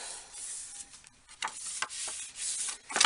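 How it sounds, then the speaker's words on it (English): Paper pages being burnished down by hand, a dry rubbing and scuffing in short uneven strokes with brief pauses between, close and fairly quiet. "So I'm just going to give that a good burnish down now."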